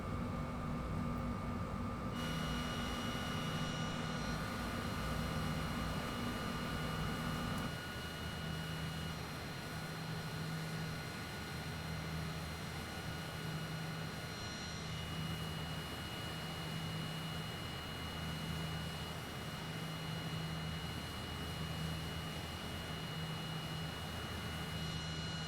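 Steady whooshing drone of a private jet in a flight simulator game, with a constant engine hum and tonal whine throughout, loud and unbroken, changing character partway through.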